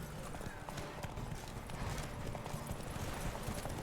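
Galloping horse hooves in The Witcher 3 beat a steady, continuous clip-clop rhythm close by, with a voice speaking briefly over the hoofbeats.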